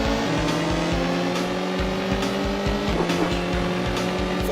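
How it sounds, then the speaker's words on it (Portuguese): Racing engines from the Road Rash motorcycle racing video game, a steady loud whining drone with rhythmic low pulses and shifting pitch, continuous throughout with no talk. "Tinha também o Road Rush, que era um jogo de corrida de moto"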